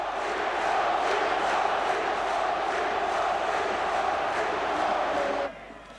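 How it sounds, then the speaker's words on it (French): A stadium crowd at a football match chants a player's name in a loud, sustained roar of massed voices, cutting off sharply near the end. "le nom du héros, scandé par une foule ivre d'émotion"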